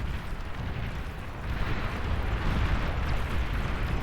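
A commander unit is destroyed in the real-time strategy game Beyond All Reason, its explosion merging into a dense, steady roar of battle rumble and blasts that swells slightly toward the end.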